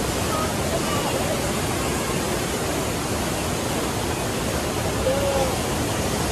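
Saitabat waterfall near Bursa pours in a steady, dense roar of falling water, loud and close, unbroken throughout with no talk.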